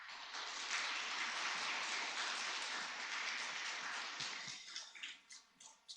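A church congregation at a Christmas service in Gumi, Korea, applauding to welcome the pastor: steady, dense clapping from many hands filling a large room, tapering off near the end.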